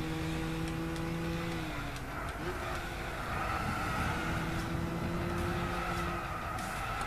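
A car engine in the video game Gran Turismo 6 drones steadily, shifting pitch as the car accelerates and eases off, with faint tire noise beneath.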